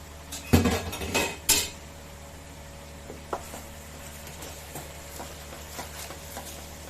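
A metal lid lifted off a cooking pot of pumpkin and Malabar spinach curry, with a few sharp clanks and scrapes close by early on, then faint occasional taps in a quiet kitchen.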